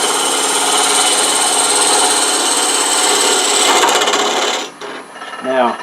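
A lathe gouge cuts into a spinning burl wood box, producing a loud, steady rasping scrape close by, which fades out before a brief voice at the end.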